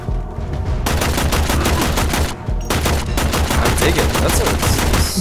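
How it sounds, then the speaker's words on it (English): Rapid bursts of assault rifle fire at targets in the video game Warframe, loud and continuous with a brief pause midway before the shooting resumes. "nice assault rifle."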